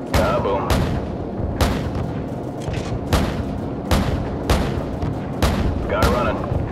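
Repeated heavy cannon bursts from an AC-130 gunship in Call of Duty 4: Modern Warfare, loud booming impacts roughly every second over a constant rumbling engine drone, with radio chatter mixed in.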